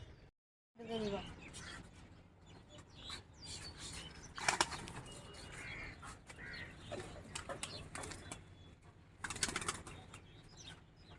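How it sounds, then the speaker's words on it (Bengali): Fancy pigeons are let out and flutter close by, with two loud bursts of clattering wingbeats rising above a steady rustle and faint cooing. "কবুতরগুলো এখন ছেড়ে দিচ্ছি এখন খাবার কাছে"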